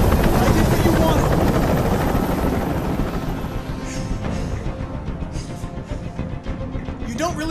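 Helicopter hovering close overhead in the video game Detroit: Become Human, a loud, steady rotor roar that stays constant throughout and fades slightly toward the end.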